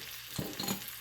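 Garlic sizzles and hisses in a hot pan as it is stir-fried with beef, the steady frying noise broken by a couple of brief stirring scrapes close up.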